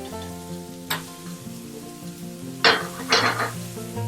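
Omelette ingredients sautéed in a pan with a spatula, soft scraping and clinks of utensil against the pan over faint sizzling, with a few sharper metallic scrapes near the end over steady background music.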